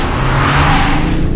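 A 2020 Audi S7 Sportback TDI is driven hard through a corner, its engine giving a deep, steady drone with a faint rising tone, heard briefly from close by.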